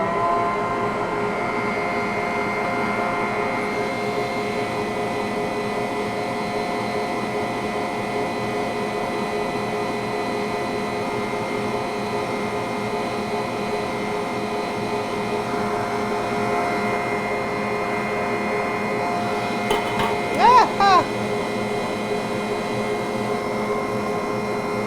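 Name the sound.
Bosch Universal Plus stand mixer whipping mashed potatoes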